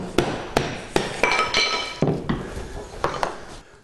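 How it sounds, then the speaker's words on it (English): A wooden piece strikes an old hammer handle to knock it out of the steel hammer head, sharp ringing metallic knocks about a dozen times in an uneven rhythm, close and loud. "with a piece of wood or an old hammer handle or something like that, I should be able to knock it out without too much difficulty"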